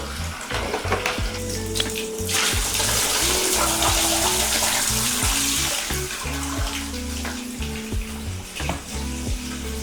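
Stop bath liquid for large format film developing is poured into a container, producing a steady, close splashing gush that continues alone for several seconds.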